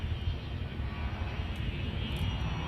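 Spaceship in Elite Dangerous climbing toward a space station, a steady low engine roar with a broad airy hiss, even and unbroken throughout with no talk.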